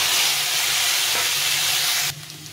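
Potatoes and taro sizzle and hiss steadily in hot oil in a pan, loud and close, with cumin, bay leaf and dried chili already in the oil; the frying noise drops sharply near the end.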